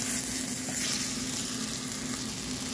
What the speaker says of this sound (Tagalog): Yung pag mainit na siya, ilalagay natin yung ating minced garlic.